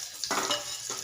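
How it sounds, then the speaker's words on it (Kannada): Mustard seeds splutter in hot oil that already holds turmeric and chillies, with a brief cluster of crackling pops and soft sizzle, fairly close and alone. "ಸಾಸಿವೆ ಚಟಪಟ ಅಂತ ಇದೆ ನೋಡ್ರಿ"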